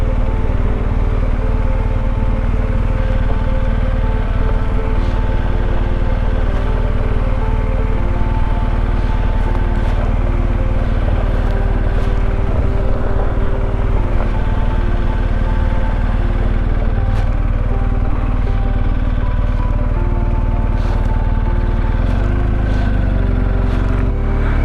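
A BMW GSA adventure motorcycle rolls into a Nevada campground, its engine droning steadily and close throughout with a low continuous rumble and slight shifts in pitch.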